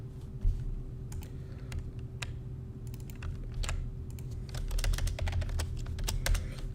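Rapid keystrokes on a computer keyboard while code is typed, a steady run of close clicks over a low electrical hum, getting denser toward the end.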